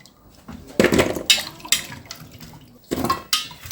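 Sweet colocasia (taro) being scrubbed and rinsed in a basin of water, with repeated close splashes and sloshes coming in irregular bursts and quieter pauses between them.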